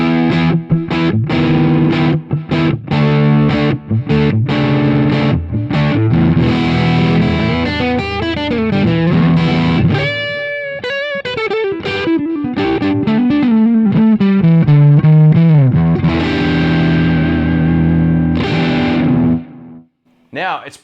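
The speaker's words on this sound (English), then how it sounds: "So this is just the amp's drive tone." Electric guitar through an amp's drive channel at moderate gain, with the overdrive pedal switched off, plays choppy distorted chords and then sliding, bending lead lines, loud and up close.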